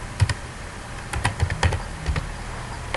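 Code typed on a computer keyboard: a quick burst of close, crisp key clicks in an uneven rhythm, loud and alone with no voice.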